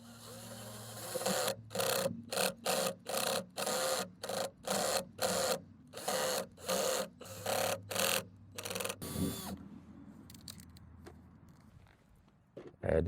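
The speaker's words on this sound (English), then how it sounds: "Let's go ahead and drill a hole at the bottom." A power drill bores a hole in a wooden raised garden bed in a rapid series of short, evenly spaced bursts close up, followed by quieter handling noises and a voice speaking.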